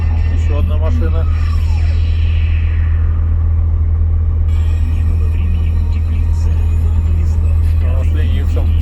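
KamAZ trucks and other vehicles roll past, a loud, steady low engine rumble filling the whole stretch, with voices talking over the traffic.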